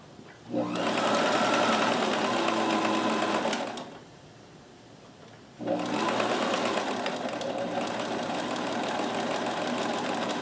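A Kenmore 158.1914 sewing machine stitches a seam with a stretch stitch foot, its steady motor whir running loud for about three seconds, pausing briefly, then resuming steadily to the end.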